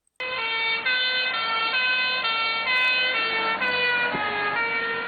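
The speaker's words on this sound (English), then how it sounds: "Now listen to what that fire truck was doing." A loud, wailing fire truck siren sounds steadily, its pitch subtly shifting by the Doppler effect as the truck comes toward the listener and goes by.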